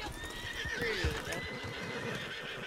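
A horse in the video game Red Dead Online lets out a loud whinny over soft hoof clops in snow, and a voice talks faintly underneath.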